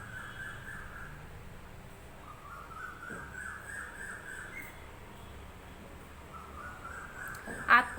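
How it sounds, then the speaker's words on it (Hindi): Crows caw in the background, a few drawn-out harsh calls spaced several seconds apart over a steady low hum, ending with a short sharp squawk. "आपको बैकग्राउंड में बर्ड्स की आवाज़ भी आ रही होगी,"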